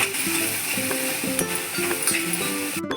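Spoonfuls of turmeric and red chili powder get stirred through clams frying in a hot pan for a Goan dry clam dish, with a steady sizzle beneath scraping spoon strokes and light clinks against the vessel, continuous and close.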